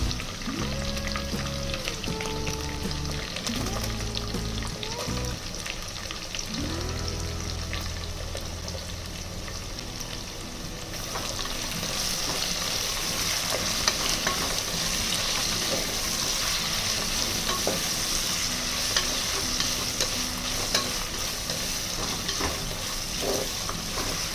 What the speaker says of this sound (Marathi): कढीपत्ता, कापलेल्या हिरव्या मिरच्या आणि कापलेला कांदा घालणार आणि आता हे छान सगळं परतून